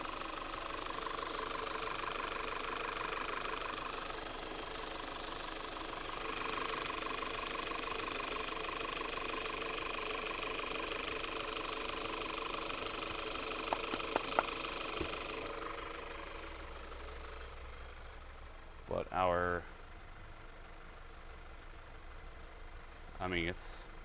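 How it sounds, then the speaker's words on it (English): Car engine idling with a vacuum leak, a steady mid-pitched running drone with a faint hiss, holding near and even for most of the stretch before easing off, with a few brief clanks and a short voice near the end. "it's got a heck of a vacuum leak though, somewhere"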